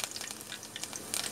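Curry leaves drop into hot oil for a cabbage and chana dal bhaji and crackle in a dense, faint sizzle with quick pops and spits throughout, and no one speaks.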